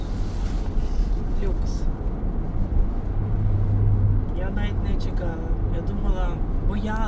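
Interior cabin noise of a car on the move, a steady low rumble and road hum with wind, while someone talks over it for most of the time.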